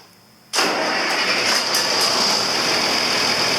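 A John Deere 4320 tractor engine cranks and catches after a brief quiet moment, then settles into a loud, steady running roar close by, with no talking over it.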